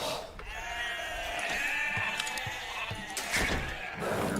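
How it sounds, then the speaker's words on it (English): Sheep in the video game Age of Empires bleat in a few wavering calls over steady game background sound, with no talk over them. "Where are the other sheep?"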